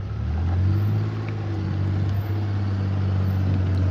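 A tractor engine idles on a ranch with horses and longhorn cattle, a steady low rumble running loud and close throughout with slight swells in level.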